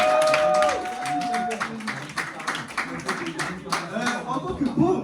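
Comedy club audience at an improv stand-up show clapping, a scattered burst of applause that thins out into lighter, uneven claps, with a voice briefly audible at the start.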